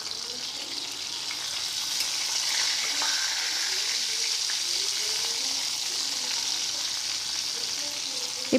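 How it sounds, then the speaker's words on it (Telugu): Stuffed bitter gourds, filled with roasted gram powder, frying in oil: a constant, even sizzle heard up close, with faint stirring underneath. "ఈ స్టఫ్ చేసిన వాటిని మళ్ళీ మనం ఈ నూనెలో వేసేసుకోవాలి"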